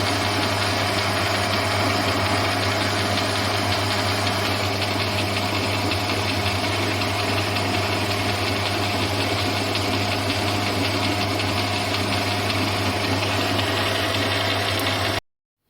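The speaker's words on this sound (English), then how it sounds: "Here I am turning the spindle shaft outside diameter." A lathe turns the outside diameter of a spindle shaft for a homemade end mill grinding attachment, giving a steady, loud machine hum and whine that holds without a break for the whole stretch, then cuts off abruptly.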